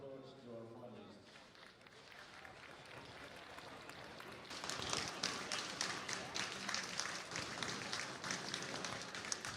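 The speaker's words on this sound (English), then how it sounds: "Now let's give a big applause to our finalists." Audience applause for the finalists at a Masters sporting tournament, starting after a voice and swelling into steady crowd clapping that carries on to the end.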